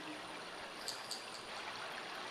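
Water of the Ganges river flowing and babbling, a soft, steady rushing trickle heard from a short distance, quiet and continuous with a few faint splashy accents and no voices.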